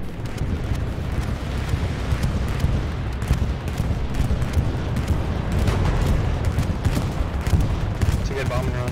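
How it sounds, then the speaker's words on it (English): Heavy bombing-run explosions rumble through a Hell Let Loose battle at Utah Beach, a dense, continuous barrage of booms and gunfire close and loud throughout, with voices talking underneath. "It's a good bombing run."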